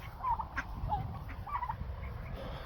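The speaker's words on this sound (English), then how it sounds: "The turkeys like hanging out on top of it, which is fun." Turkeys gobble in a backyard setting, several short warbling calls coming faintly from a distance over a steady outdoor rumble.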